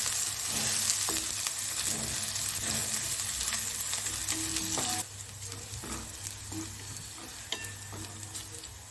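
Chili, garlic and ginger paste fries in a pan, a steady close sizzle broken by occasional stirring scrapes and taps, loud at first and quieter after about five seconds.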